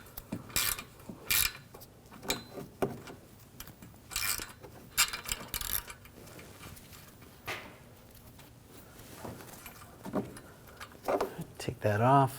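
A ratchet with a 13mm socket works nuts loose on a rear CV axle bracket of a 2007–2013 BMW 328i 3.0L L6, with bursts of quick clicking and metallic clatter recurring at irregular intervals, close up.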